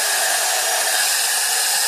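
A hair blow dryer on its hot setting blows constantly, loud and close, a smooth unbroken rush of air with no voices.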